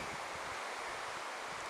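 Strong wind blows outdoors at a garden, a steady broadband rush with low buffeting gusts on the microphone, no voices.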